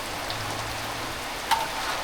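Steady rain falls close by as a dense, even patter, with one brief sharper tap partway through and no voices.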